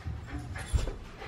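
A dog whimpers and pants softly up close in a home, with short breathy whines and a low thump partway through, fairly quiet with no talking.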